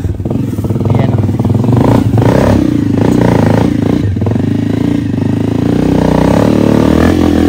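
A motorcycle grinds along a muddy rural path, its engine loud and close throughout, with steady droning and rattling clatter as it works through the mud.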